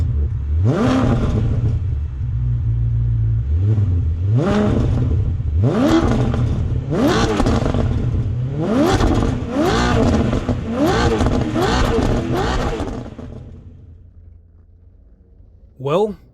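A Maserati Quattroporte engine blipped repeatedly, about seven loud, close revs climbing and falling in quick rhythm over a steady idle, then settling to a quieter idle, with a brief sound near the end.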